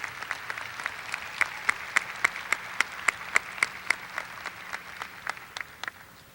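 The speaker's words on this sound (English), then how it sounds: "let's have one more round of applause for our athletes from South Garland High School" Applause from a signing day crowd for South Garland High School student athletes, with a run of distinct, evenly spaced claps standing out above a softer background of clapping.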